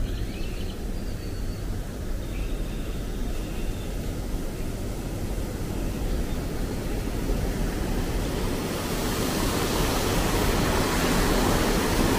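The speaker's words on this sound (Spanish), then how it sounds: "Miren, acá estamos debajo de la cascada." Steady, loud broadband roar of water falling from directly below a waterfall on the San Antonio River in Texas, continuous throughout and swelling slightly brighter toward the end, with no voices.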